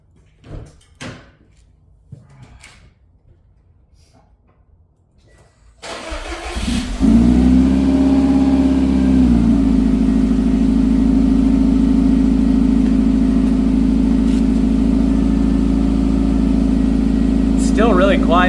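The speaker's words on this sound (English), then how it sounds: "we're gonna open her up and hear this thing" A Subaru WRX STI fitted with a Ganador titanium exhaust is cranked and fires up after a few quiet clicks and a door, then settles into a loud, steady idle with a brief rev near the start.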